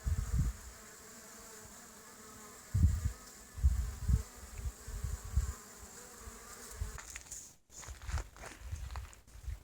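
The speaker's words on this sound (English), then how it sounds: "I'll see how the bees are doing." Steady insect buzzing of bees drinking at water near and around, with low rumbles and a few soft footsteps; a brief dropout near the end.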